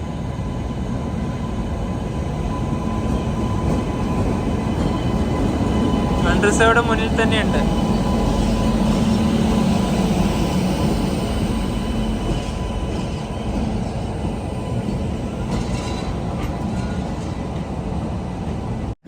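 Train rumbling through a station in the Kashmir valley, a steady loud rail roar with a brief metallic squeal, while someone talks over it throughout.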